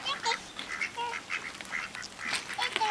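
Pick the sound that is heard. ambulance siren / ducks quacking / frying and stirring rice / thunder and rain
ducks quacking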